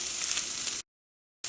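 Onions sizzle as they fry in a pan, a steady hissing crackle heard up close for under a second before cutting out to silence and briefly resuming.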